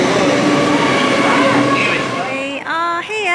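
A passenger train on a day trip toward Weston-super-Mare rumbles steadily with a loud, continuous rolling roar, and a voice speaks over it toward the end.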